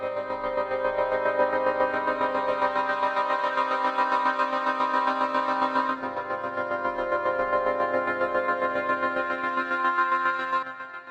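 A sampled bassoon from the Soundpaint Bassoon Firebird library plays a sustained, reedy melodic line with rich harmonics, shifting notes around the six-second mark and fading at the end, heard alone and close.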